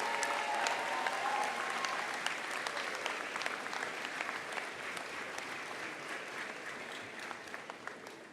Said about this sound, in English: with your applause, show your appreciation to them